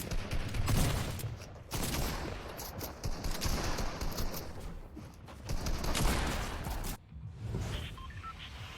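Rapid bursts of gunfire from the Fortnite video game, loud and dense, with rattling volleys that run almost the whole time and a short break near the end.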